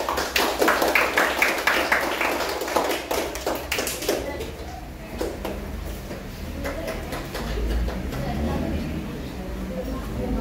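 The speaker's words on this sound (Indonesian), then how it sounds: "Beri tepuk tangannya untuk kelompok 4." A sixth-grade science class claps for a student group, a burst of rhythmic clapping close by for about four seconds, then scattered taps and classroom murmur.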